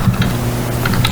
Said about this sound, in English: We'll let her finish typing because